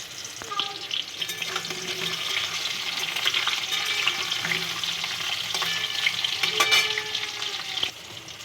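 Half-boiled potatoes sizzle steadily in hot oil with cumin up close, with occasional scraping and clinking from stirring throughout.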